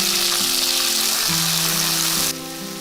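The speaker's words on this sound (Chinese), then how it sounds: "平底锅加入少许油，放入蒜片炒香，接着加入青红椒还有乌姜萝卜" Garlic slices, then green and red peppers with pickled ginger and radish, sizzle in a little oil in a flat pan, a steady close broadband frying hiss with soft stirring that drops slightly near the end.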